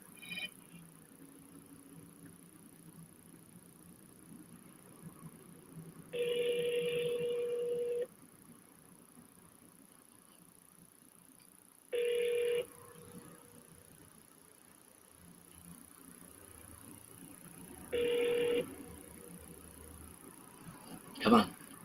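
Phone call being redialed on a speaker line, three separate ringback tones spaced several seconds apart over a quiet, faintly hissing background, with a brief click near the end.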